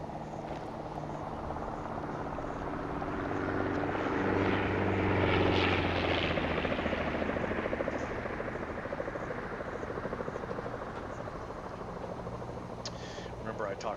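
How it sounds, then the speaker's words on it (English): Aircraft flyby in the Arma 3 SOG Prairie Fire game, a steady rotor-like engine drone that swells to a peak midway and then slowly fades, with a muffled voice faintly underneath. "It initiates that aircraft. To do a flyby."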